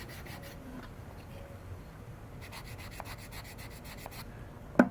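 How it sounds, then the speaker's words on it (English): A sanding block rubs along the edges of a leather pouch or sheath in soft, repeated strokes, close and fairly quiet, with a sharper knock at the very end. "Give it a little sanding."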